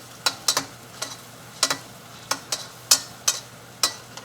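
Ginger and garlic cooking in a pan, with a low sizzle under a series of sharp clicks and taps as a utensil stirs against the pan, about a dozen irregular hits.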